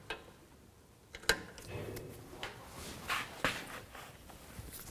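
Metallic ticks and clicks of a ratchet with an 18mm socket removing the rear brake caliper bracket bolts on a 2007-14 GMC Sierra 3500HD, faint and close, in short irregular bursts.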